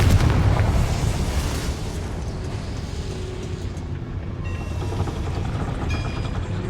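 The Confringo fire-blast spell explodes in Hogwarts Legacy, a loud, low rumbling boom that opens the scene and rolls on as a sustained roar that slowly thins out.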